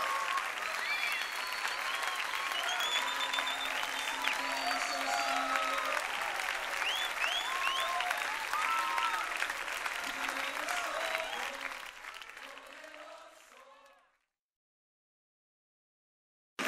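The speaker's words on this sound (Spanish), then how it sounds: "aplauso" Dense, sustained applause from a worship concert crowd fills the space, with scattered voices and whoops riding on top, then tapers off and drops to silence near the end.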